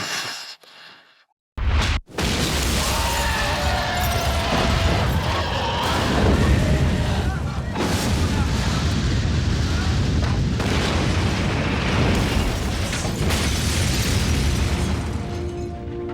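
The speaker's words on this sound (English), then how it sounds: "Big ass explosion." An explosion in a Buffy the Vampire Slayer episode, the season three finale: a sudden loud boom after a brief silence, followed by a sustained roaring blast with debris and rumble lasting many seconds.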